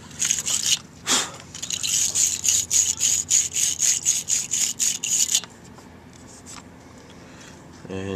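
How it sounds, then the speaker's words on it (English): A brush scrubs a corroded car battery terminal in a quick run of about a dozen rhythmic strokes, loud and close, before stopping and leaving quieter background noise. "brush out as much as I can just to keep the connection as clean as possible"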